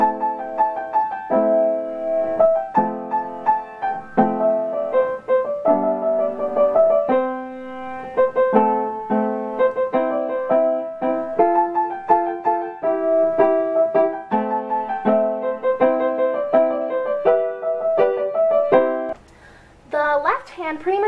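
Piano playing a song: a steady rhythmic melody with chords, clear and close, breaking off near the end with a brief pause and some handling noise.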